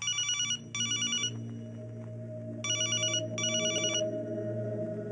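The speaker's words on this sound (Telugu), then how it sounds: "ఫోన్ చేసి కనుకో." A phone ringing in a Telugu comedy film scene set on a train, bright electronic ring bursts repeating in pairs with short pauses, loud over a low rumbling background, with no talking.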